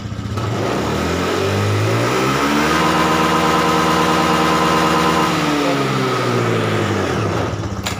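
A Honda Scoopy scooter engine with a stuttering fault is opened to full throttle. It revs up, holds a loud, steady high note for several seconds, then drops back toward idle, close by and with no speech.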